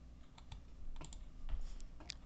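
Fingers tap out a short, irregular run of key clicks on a Mac computer keyboard, quiet and close with small gaps between strokes.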